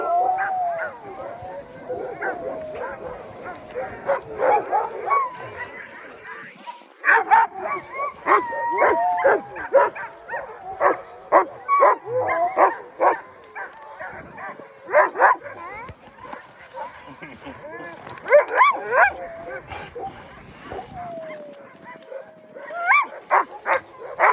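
Small sled dogs from the Iditarod race yip, bark and whimper up close in repeated bursts, with high whiny cries between the barks and a voice talking over them.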